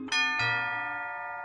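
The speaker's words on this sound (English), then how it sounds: "The chimes ringing to signal noon brought me back to my senses" Two bright chime strikes ring out in Symphonic Rain, the video game, marking noon; a clear harmonic tone sounds, then a second strike follows and rings on, slowly decaying, with no voices.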